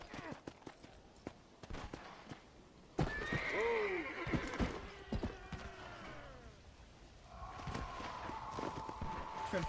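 A horse in the Red Dead Undead Nightmare game neighs loudly with a wavering whinny, then hooves clop and a second neigh follows, amid background game sounds and faint talk.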